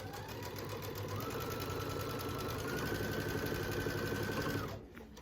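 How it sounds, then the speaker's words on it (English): Sewing machine stitching down a quilt binding corner, one continuous close run of steady mechanical whirring that stops abruptly near the end. "Stitch it down, turn it, and start stitching again."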